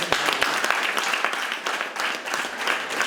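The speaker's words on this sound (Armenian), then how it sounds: "Մի հատ հատուկ ծափահարություններ" A theatre audience claps for the lead performer during a staged presentation, steady, fairly loud applause that continues through the few seconds without a break.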